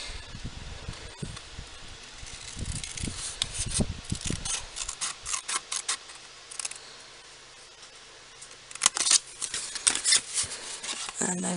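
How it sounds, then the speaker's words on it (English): Scissors snip and rasp through card while a pop-up box card is cut out, with a run of close, irregular cutting and rubbing sounds, quieter handling in between, and another cluster of sharp snips near the end. "I'm just going to do that with my scissors now"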